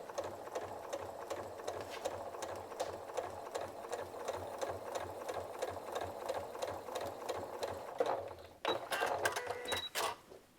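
A sewing machine stitches a quilt block for a scrappy pumpkin pattern with neutral thread, running at a steady, unhurried pace in a continuous close whir, then stopping briefly before a few shorter bursts near the end.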